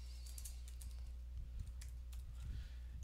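A user's name being typed on a computer keyboard, a quick run of soft, close key clicks in irregular bursts over faint room hum, no talking.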